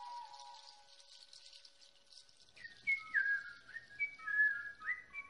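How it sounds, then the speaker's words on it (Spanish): Someone whistling nearby, a quiet short tune followed by a series of clear, lilting whistled notes rising and falling, alone over a faint background. "oyó que alguien silbaba cerca suyo y se despertó"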